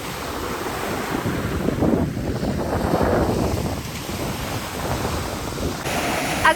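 Ocean surf washing onto the sandy beach on the south side of Ship Island, a steady broadband wash of breaking waves with wind buffeting the microphone, continuous and fairly loud throughout with no talking.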